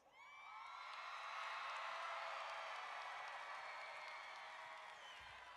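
At a Havre de Grace High School graduation in a stadium, a large crowd of graduates and guests claps and cheers in a broad, sustained, distant swell of applause that rises and then slowly fades.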